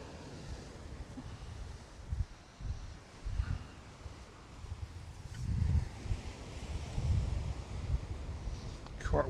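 Strong gusty wind on the seashore buffeting the microphone in low rumbling bursts that swell and fade, with faint surf beneath.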